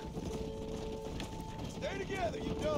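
Horse hooves clip-clopping in the Red Dead Redemption video game while cattle are herded, a steady run of beats under game music and someone talking over it.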